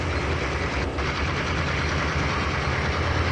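Diesel locomotives idle nearby with a steady, low rumbling drone, constant and moderately loud with no talk over it.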